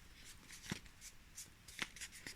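Paper being folded, opened and flattened by hand while making a paper mobile, a series of soft crinkling rustles and light creases, close and fairly faint, no talk.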